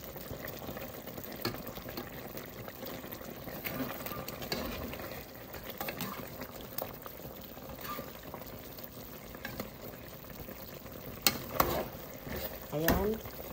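A spoon stirs patatim in a cooking pot, with continuous soft scraping and gentle bubbling up close, a few louder clinks toward the end, and faint speech in the background.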